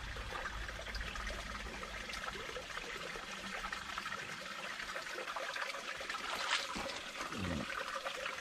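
Clear water trickles and burbles steadily through a small, rocky creek, a close, continuous wash with no voices over it.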